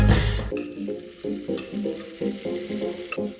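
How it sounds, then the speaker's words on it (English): Bubble and squeak mixture frying in vegetable oil in a pan on high heat: a close, steady sizzle with a heavy thump at the start and rhythmic scraping of the pan. "start off with a smaller amount in a pan on a high heat, some vegetable oil to get some colour"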